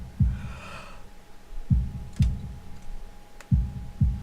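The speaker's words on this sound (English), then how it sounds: "holding my breath in an attempt to hear my heartbeat" A heartbeat sound effect from the visual novel game Katawa Shoujo thumps in low, deep lub-dub pairs at a slow, regular pace, with a faint breathy sound near the start.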